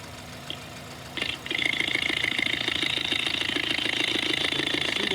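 The number 1 fuel injector of an engine, picked up by contact through an ultrasonic tester, sounds as a quick, even ticking over a steady hiss. It starts after a short contact click near the start and keeps going to the end.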